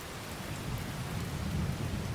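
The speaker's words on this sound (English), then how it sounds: "I love the sound of the rain when you're in the cab. Hear it bouncing off the roof." Heavy rain drums steadily on a tractor cab roof overhead in the video game Farming Simulator 22, a dense, continuous patter with a low rumbling undertone and no voices.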